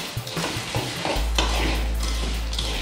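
Butter is stirred into a mixture in a pan for a banoffee Yule log, heard as close spoon scrapes and knocks over a soft sizzle, then a steady low hum takes over partway through.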